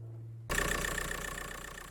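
Skoda Fabia Mk1 with a 1.9 PD diesel engine starting after a battery reconnect and alternator repair, a sudden catch followed by a steady, rhythmic idle close by with no talking.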